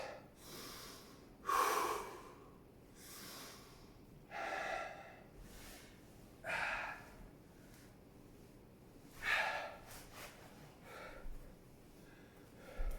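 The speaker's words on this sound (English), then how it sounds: "Right, deep breath into your nose." Repeated deep nasal inhales and exhales during a rest break in a home karate kick workout, about six close, loud snorting breaths spaced a couple of seconds apart with no talking.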